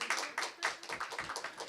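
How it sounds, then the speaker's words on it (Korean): A church congregation claps in welcome, a close, steady burst of many hands applauding without a break and without voices. "우리 박수로 환영합니다."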